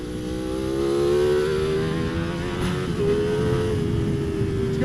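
A Ducati Panigale V4 SP2 motorcycle engine on the road while being ridden, a steady, close, droning hum holding a fairly even pitch with slight swells, without speech.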